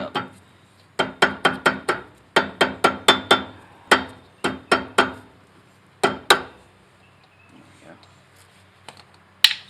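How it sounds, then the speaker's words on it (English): Rubber mallet tapping the dust cover of a utility trailer wheel hub: sharp, close knocks in quick clusters of three to five, with brief pauses between runs and a few isolated taps. "the best thing to use is a little rubber mallet to kind of tap on it"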